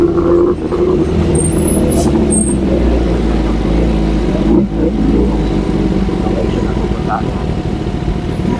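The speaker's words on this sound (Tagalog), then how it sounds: "Traffic talaga dito." Steady road traffic with car engines droning and revving close by, a heavy low rumble throughout with a brief dip midway, while a person talks over it.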